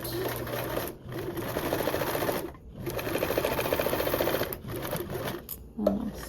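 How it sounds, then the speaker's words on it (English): A sewing machine sews fold-over elastic onto mesh fabric in several bursts of rapid, even stitching, separated by short stops, loud and close. "Slightly stretch for it to fit and then sew through"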